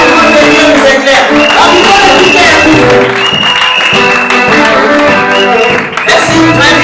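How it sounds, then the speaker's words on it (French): A church congregation at a Christmas Day service claps and cheers loudly and continuously, a dense wash of applause with music and voices mixed in throughout. "Applaudissons encore très fort."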